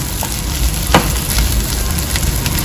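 Mashed potato bharta frying in a pan of raw onion tempering for Hyderabadi aloo bharta, a steady close sizzle with faint stirring scrapes.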